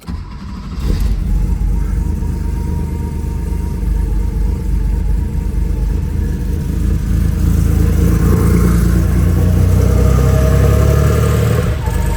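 A 1986 Porsche 911 Safari engine cranks and catches after a brief start, then settles into a loud, steady rumbling idle that builds slightly toward the end.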